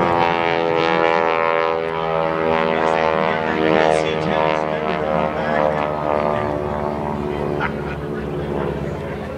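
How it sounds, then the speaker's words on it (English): A Stearman biplane flies aerobatics at the California Capital Airshow. Its engine makes a loud, steady droning buzz that swells and fades slightly as it passes, holding throughout at close-to-mid distance. "He's going to point the nose of the Stearman right back down to the runway in front of you."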